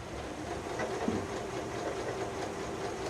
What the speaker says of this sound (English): and you're going to start sewing